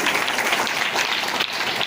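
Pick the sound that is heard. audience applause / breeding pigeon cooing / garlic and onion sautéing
audience applause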